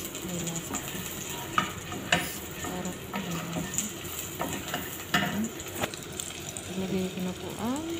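Onion frying in butter in a pan makes a moderate sizzle under frequent clinks and scrapes of a utensil stirring, with brief faint voice sounds.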